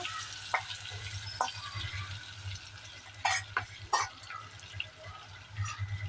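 Marinated prawns sautéing in butter in a pan for a seafood curry, giving a steady close sizzle with intermittent clinks and scrapes of stirring throughout, no voices.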